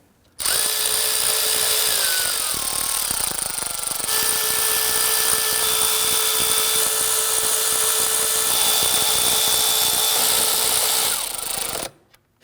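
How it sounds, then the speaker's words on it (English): Power tool whining steadily as bolts are run down on the intake of a 2010-2019 Ford Taurus 3.5L, a loud continuous drive lasting about eleven seconds with pitch shifts as each bolt seats, then stopping. "we're going to run these down, but do not tighten them. You just want to bottom them out gently"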